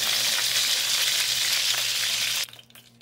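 A batch of chicken pieces fries for chicken afritada, a loud, dense, steady sizzle that suddenly drops to a faint crackle near the end.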